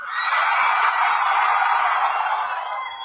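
An audience at a student festival in Debidwar shouts as loudly as it can, producing a dense, sustained roar of many voices that stays loud and steady throughout.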